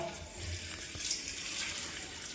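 Water gushes from an opened household tap into a container, a steady close rushing stream with a slight rise midway, no talk over it.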